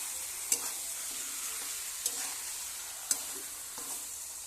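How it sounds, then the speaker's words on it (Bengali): Meat sizzles while being stir-fried in a pan, a steady frying hiss broken by three sharp scrapes of a spoon against the metal, fairly quiet and close. "মাংসটা ভালো করে কষিয়ে নেব।"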